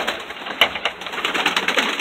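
Tame pet birds in an aviary coo and call in short repeated bursts close by, with some rustling and wing movement.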